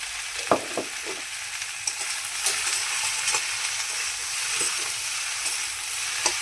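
Okra (bhindi) frying in a pan, a steady loud sizzle throughout with sharp scrapes and clicks of a spoon stirring at irregular intervals, no voices.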